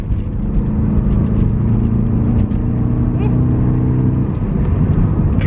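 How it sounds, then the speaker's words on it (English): Toyota MR2 driven on a hill road at Mt Dandenong, a loud steady engine drone and road rumble heard from inside the car, filling the whole stretch with a slight dip partway through. "because this car is very loud and the microphone of the camera is not amazing"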